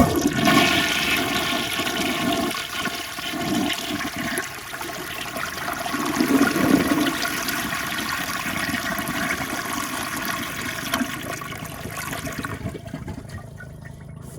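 A Rheem Claymore toilet flushes with a loud rushing whoosh of water draining from the bowl, then settles into a steady hiss and trickle as the tank refills.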